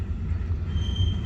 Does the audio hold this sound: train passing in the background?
yes